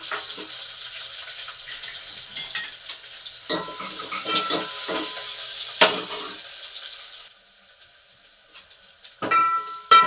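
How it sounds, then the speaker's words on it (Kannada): Onion and curry leaves dropped into hot oil with mustard seeds for a tempering give a bright hiss and sizzle, broken by several sharp stirring clatters and a burst of spluttering toward the end. "ಒಗ್ಗರಣೆ ಸಿಟ್ಕೊಂಡಿರೋಂಥ ಈರುಳ್ಳಿ ಕರಿಬೇವಿನ ಸೊಪ್ಪು ಹಾಕ್ಕೊಳ್ಳಿ."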